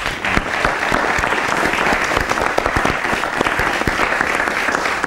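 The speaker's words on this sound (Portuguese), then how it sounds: "Uma salva de palmas" Loud, dense applause from a large audience at a live technology and innovation event in Mozambique, steady sustained clapping filling the whole stretch with no voices on top.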